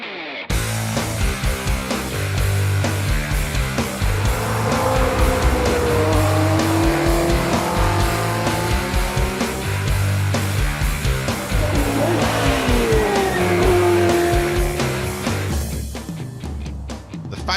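Lotus Elise race cars at full speed on a wet circuit, engines roaring loud and continuous with rising and falling revs as cars pass, under a dense layer of engine drone.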